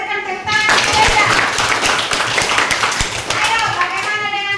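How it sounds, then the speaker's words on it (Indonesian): Classroom students clap for a classmate who plays piano, a fairly close burst of hand clapping that starts after a short pause and holds steady, with children's voices mixed in. "kita berikan tepuk tangan Welda"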